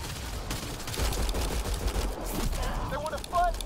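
Bursts of gunfire in the sci-fi shooter game Mass Effect Andromeda, a loud running exchange of shots with low booms, while in-game voices speak near the end.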